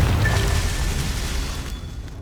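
A fire spell explosion from Confringo in Hogwarts Legacy, booming loud at once, then a rumbling blast that fades over about two seconds.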